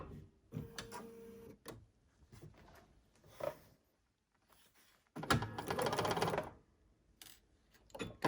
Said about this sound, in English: This time I'm gonna sew from the bottom up.